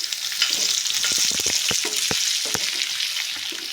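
Chopped carrots frying for sabudana kichadi, a steady close sizzle with scattered stirring scrapes and clicks of a spoon against the pan throughout, no voices.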